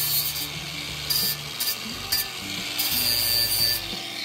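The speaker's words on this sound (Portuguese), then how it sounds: "Tirando as rebarbas agora e lixando para a parte que vai pegar a solda" Repeated scraping and rubbing strokes of abrasive sanding burrs off metal before welding, coming in short bursts with brief pauses between them, close and moderately loud.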